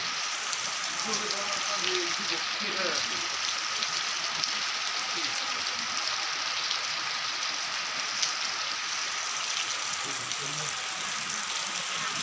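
Heavy rain falls in a dense, steady hiss that holds evenly throughout, with a faint low engine hum beneath it.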